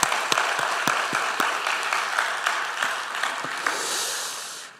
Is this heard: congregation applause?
yes